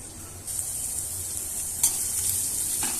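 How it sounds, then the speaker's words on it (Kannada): Crushed garlic and cumin seeds dropped into hot oil for a mint and coriander chivda: a steady, close sizzle runs throughout, with a couple of brief spatula stirs and no voices. "ಈಗ ಎಣ್ಣೆ ಚೆನ್ನಾಗಿ ಕಾದ್ಮೇಲೆ ಜಜ್ಜಿರೋ ಬೆಳ್ಳುಳ್ಳಿ ಮತ್ತು ಜೀರಿಗೆನ ಹಾಕೊಳ್ತಾ ಇದ್ದೀನಿ ರೀ"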